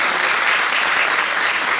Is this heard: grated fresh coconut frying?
no